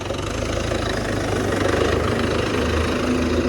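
An MTZ tractor engine idles loudly nearby, a steady low chugging rumble with a faint knocking rhythm and no voices.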